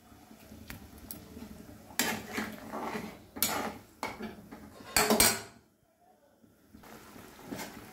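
A spoon scrapes and clinks against a pan while sauce is stirred into chicken for a home-cooked curry, with irregular metallic knocks and rattles nearby, a brief quiet gap, then more clatter.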